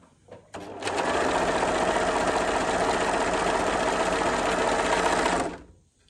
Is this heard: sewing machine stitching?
yes